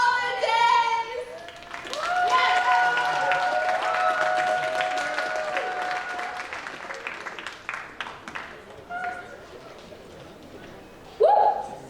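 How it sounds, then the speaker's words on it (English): A live audience applauds after a holiday reading performance, with sustained clapping that builds and then thins into scattered claps, some cheering and voices mixed in, and a short burst near the end. "Let's give them another round of applause"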